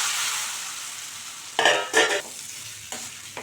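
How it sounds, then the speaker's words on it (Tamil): Raw banana slices dry roasting in spiced oil and chilli powder over medium heat, with a low background sizzle broken by a few loud bursts of spatula scraping and stirring in the pan. "அடுப்பை மீடியம்லேயே வச்சு ஒரு 5 நிமிஷம் அப்படியே நல்லா ட்ரை ரோஸ்ட் பண்ணி எடுத்துட்டா"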